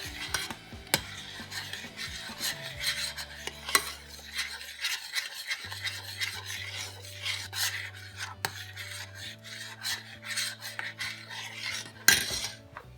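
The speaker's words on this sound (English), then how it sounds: "Stir it around in there." A spoon stirs and scrapes a Cajun seafood butter sauce with garlic in a pan, producing soft repeated rubbing and clinking strokes over a low kitchen hum, with no talking.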